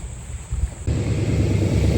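Wind buffets against the microphone in a low roar, growing stronger and steadier partway through.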